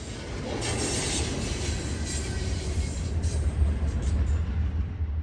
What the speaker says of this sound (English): such as this intermodal empty train bound for Charlotte